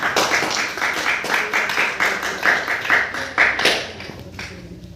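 Scattered audience clapping at a student speaking event, a modest, uneven patter of hands that swells in bursts and then thins out toward the end.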